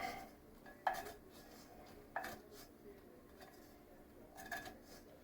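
A metal utensil lifting bacon out of a pan with black pepper stuck to the bottom, giving three faint clinks and scrapes against the pan over a low background hiss.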